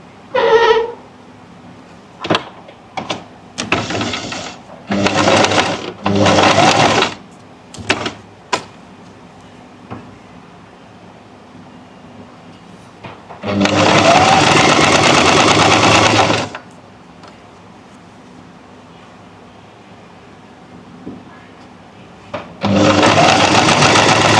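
A sewing machine stitches a strip onto a round neckline in several bursts: short rapid runs at the start, a longer steady run in the middle and another at the end, close and loud with quiet pauses between.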